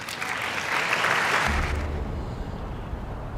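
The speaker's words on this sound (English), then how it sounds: "You hear the applause as Trump recognized Irina's mother, Anya Zarutska, in the gallery." Applause rises from the gallery during a presidential speech as a grieving mother is recognized, a broad crowd roar and clapping that swells, then thins into a low rumbling room tone.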